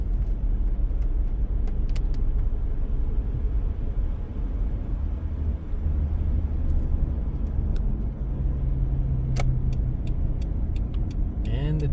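A sound-deadened Subaru coasts in neutral down a hill, a steady muffled low road rumble from inside the cabin, with a few faint clicks near the end.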